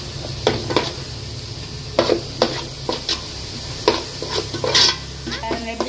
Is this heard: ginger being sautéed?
yes